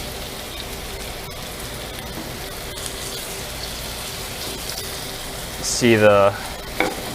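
Fish coated in flour and cornstarch crackles steadily as it fries in hot oil, a soft continuous sizzle with a brief louder burst near the end.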